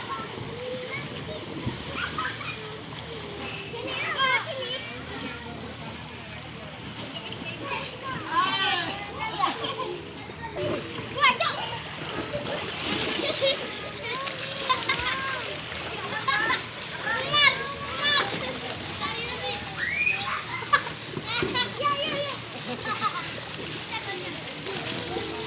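A small child swimming and splashing in water, light irregular splashes and sloshing close by, mixed with children's voices and playful chatter throughout.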